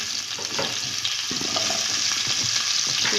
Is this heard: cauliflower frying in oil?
yes